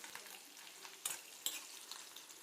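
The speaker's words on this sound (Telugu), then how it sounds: "ఇప్పుడు పచ్చిమిర్చి, కరివేపాకు వేసుకుంటాం ఇందులో." Green chillies and curry leaves frying in hot oil in a pan, with a soft steady sizzle and crackle and two sharper spitting pops. The frying is quiet and close, with no voices.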